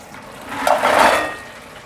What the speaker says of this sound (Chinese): 现在要这样不停的翻炒